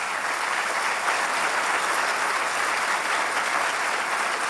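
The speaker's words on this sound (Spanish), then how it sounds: "Dale un aplauso al Señor por la vida de este." A church congregation applauds steadily, a broad even roar of many hands clapping that holds at the same level throughout, with no speech on top.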